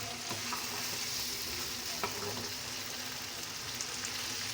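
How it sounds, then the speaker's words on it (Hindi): Okra (ladyfinger, bhindi) frying in plenty of oil over a low flame gives a steady, even sizzle that holds at one level throughout, with faint crackles scattered through it and no talking. "हल्की आंच पे इनको फ्राई करना है ताकि वो जल ना जाए।"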